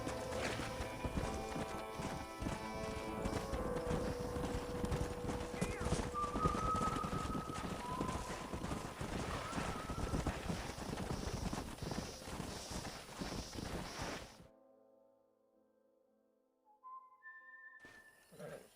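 Steady clip-clop of horse hooves with a sharp whinny amid game music and whistling in the video game Red Dead Redemption, then a quiet gap before tones return.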